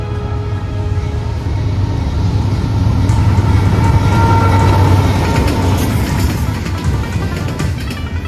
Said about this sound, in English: This was, I believe, 22X and intermodal from Chicago to Cross, New Jersey